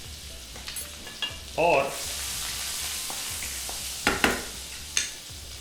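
Ginger sizzles in hot oil with cumin seeds, a steady frying hiss with a few sharper crackles and clinks as it is stirred, heard up close with a brief spoken word.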